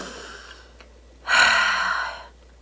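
A single deep breath: a faint intake early on, then a longer, louder airy exhale lasting about a second against a quiet background.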